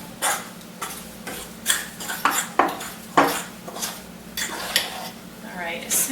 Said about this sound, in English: Almost done getting all the flour worked in here.